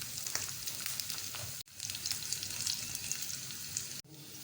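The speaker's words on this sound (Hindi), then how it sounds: "घी गरम हो चुका है, इसमें हम डालेंगे अदरक बारीक कटी हुई।" Finely chopped ginger and green chilies sizzle in hot ghee for a dal chana tempering, a steady close crackle broken by two brief drops in the sound.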